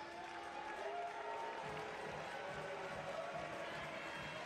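Crowd noise at a Davis Cup tennis match after a disqualification, a steady, dense wash of many voices and scattered clapping that holds for several seconds at moderate distance, with no clear single speaker.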